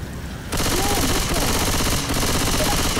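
Rapid, dense gunfire erupts after a brief quieter moment in a Left 4 Dead 2 zombie co-op match, a loud continuous clatter of shots filling most of the clip.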